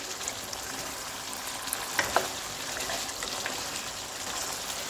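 Chicken karahi masala with kasuri methi and garam masala frying in a pan while being stirred, a soft steady sizzle with a few light scraping clicks of the spoon, no talk.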